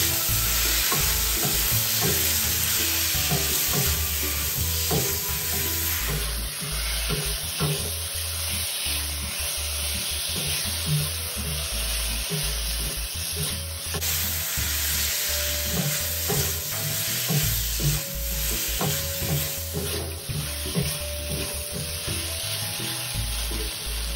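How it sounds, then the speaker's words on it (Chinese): Tamarind peel, soaked dried chilies and tomato chunks stir-fried over high heat in a wok, a steady close sizzle with constant scraping and stirring strokes throughout, no talk. "炉一直保持大火，一直拌炒，"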